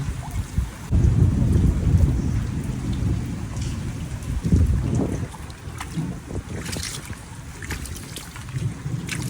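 Heavy rain pouring down in Kathmandu during a storm, a loud dense roar of rain hitting surfaces with low rumbling swells, continuous and close throughout.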